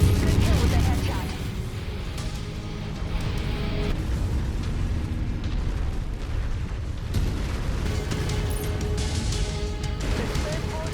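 A spaceport collapses in the video game MechWarrior 5, with a dense, continuous roar of rumbling explosions and crashing debris throughout, loud and layered.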